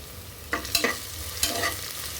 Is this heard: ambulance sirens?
no